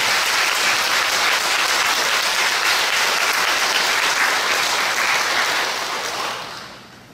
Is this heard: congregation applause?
yes